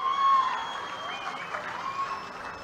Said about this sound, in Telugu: వాళ్ళిద్దరిని కూడా గట్టిగా చప్పట్లు కొట్టి అభినందించండి